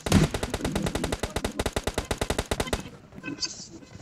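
Rapid automatic gunfire in a video game team deathmatch, a long sustained burst of evenly spaced shots for nearly three seconds, then a brief quieter pause with fainter distant shots.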